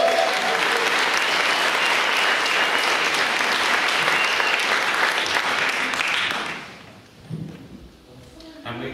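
A concert crowd claps loudly and continuously for a performer introduced before a song, the applause fading out after about six seconds into quieter room noise with a faint thud.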